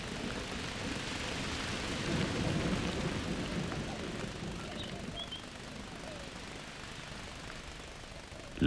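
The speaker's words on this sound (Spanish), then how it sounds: "La lluvia, cuando llega al Mojave, es breve y violenta." Brief, violent desert rain pours down in the Mojave, a dense steady roar of falling water with low rumbling underneath, constant and fairly loud throughout.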